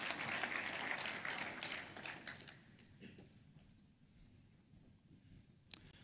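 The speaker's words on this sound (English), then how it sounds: "Let's give all of our recipients of the Command Sergeant Major Retired James K. Sims Epic Award a big round of applause." Audience applauds recipients of the Command Sergeant Major Retired James K. Sims Epic Award at an Army forum and awards breakfast, strong clapping at first that thins and fades to scattered claps over six seconds.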